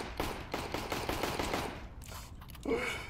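Video game gunfire rattles in a fast automatic string of shots for about two seconds, then stops, followed by a short sharp sound near the end.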